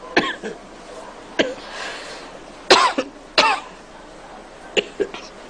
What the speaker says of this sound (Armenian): տես ոնց ես հազում